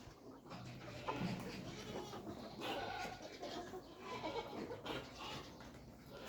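Goats bleat on a farm where chickens are also kept, their cries repeating at close range over a busy outdoor background.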